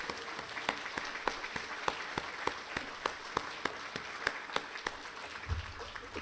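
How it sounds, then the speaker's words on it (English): An audience at an annual meeting applauds armed forces veterans. The sound is a thin, fairly quiet round of clapping with distinct individual claps standing out in an uneven rhythm. "Please give them a round of applause."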